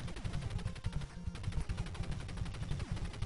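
Rapid, continuous gunfire in the run-and-gun game Contra as a turret soldier is shot, a steady dense stream of shots at a fairly low level throughout.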